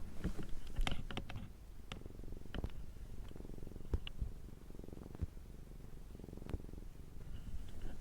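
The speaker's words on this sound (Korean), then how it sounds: "저희 집 고양이가 지금 꾹꾹이를 하고 있어서 그르렁 거리는 소리가 들리거든요." A house cat purrs close by while kneading, a soft continuous rumble broken by light scattered taps and scuffs from its paws.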